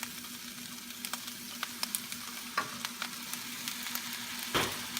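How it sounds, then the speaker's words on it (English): Fried rice with soy sauce being stir-fried in a pan: a soft, steady sizzle broken by sharp spatula scrapes and taps at irregular intervals, close but fairly quiet, with no talking. "mix them together real good"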